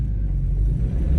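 Steady low engine and road rumble from inside a moving car, a close, continuous drone with no voices.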